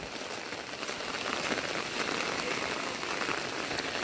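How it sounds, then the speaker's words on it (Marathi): Heavy monsoon rain falls steadily in a Konkan village, a dense continuous hiss of drops on surfaces with occasional louder spatters, even and unbroken throughout. "पावसाने चांगलाच जोर धरलेला आहे"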